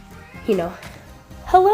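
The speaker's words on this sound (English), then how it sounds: "That's my cat." A pet cat named Pumpkin gives two short, rising meows close by, with a person talking softly in between.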